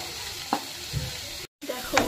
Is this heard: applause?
no